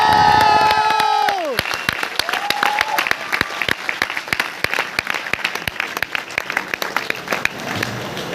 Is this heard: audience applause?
yes